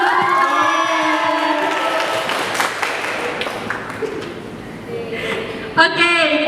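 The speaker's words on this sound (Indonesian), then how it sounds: "Tepuk tangan dulu." Audience at a student talkshow game segment breaking into applause and cheering, a dense wash of clapping and shouts from a crowd with voices mixed in, fairly loud throughout.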